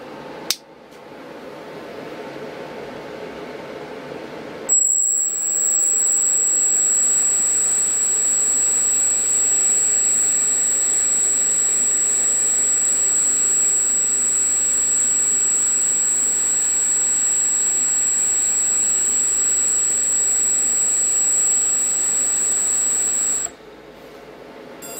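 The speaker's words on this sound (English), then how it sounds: "I'll spool up the ductive fan unit to the target frequency" A ducted fan unit spools up to a steady target speed and holds a sustained, piercing high whine with a broad airy rush beneath, close and loud, for about twenty seconds before winding down.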